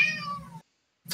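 A cat gives one drawn-out meow, loud and close, then falls silent before a second meow begins at the very end.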